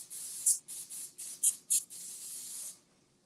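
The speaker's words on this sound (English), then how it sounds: "And we're going to spray that boy down." Cooking oil sprayed from a can onto battered food in a kitchen, a series of short hissing bursts in quick succession, a few sharper puffs among them, close and clear with no talking.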